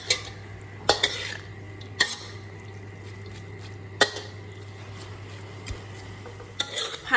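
Sweet leaves being stir-fried with oyster sauce, soy sauce and a little sugar in a pan: a steady low sizzle broken by several sharp scrapes and clinks of a utensil against the pan, close and alone.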